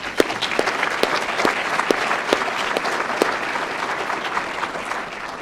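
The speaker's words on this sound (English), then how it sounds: "So please give them a round of applause." An audience at a Frank Church Institute luncheon claps steadily for about five seconds, a dense and even round of applause that fades slightly at the end.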